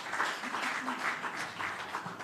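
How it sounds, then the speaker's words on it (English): Steady audience clapping fills a launch event held by a Jamaican culture and labour ministry, a soft, even patter of many hands sustained throughout without a clear start or end. "Give her another round of applause."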